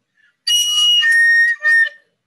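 A student plays a recorder improperly, blowing shrill, whistle-like squeaky tones in one long wavering note and a short second burst, loud and close, with no talking.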